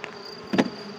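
Honeybees buzz at a hive during a spring honey-super placement in a Czech apiary, a steady near hum with one brief louder pass as a bee flies close by.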